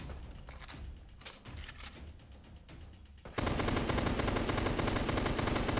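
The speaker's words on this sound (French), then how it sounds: "alors la mitraillette, elle est un peu bizarre quand même" Submachine gun fire in the video game Last Day Alive: scattered rapid shots, then a loud, dense continuous burst of automatic fire up close for the final few seconds.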